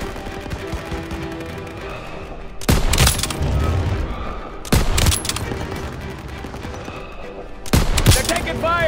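Bursts of automatic rifle fire erupt in three loud volleys during a World War II street battle in Call of Duty: WW2, separated by background battle noise and shouted voices.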